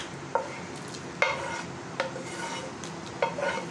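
Chicken and vegetables for shashlik are stirred into gravy in a pan over a high flame. A spoon scrapes and clinks against the pan in about four sharp strokes over a faint, soft sizzle.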